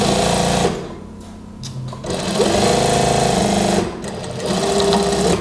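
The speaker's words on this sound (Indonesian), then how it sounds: "Ini jahitan pertama." A sewing machine runs loud and close while stitching the first seam of a pocket on a house dress, its motor whirring in steady bursts that pause briefly near the one- and four-second marks before resuming.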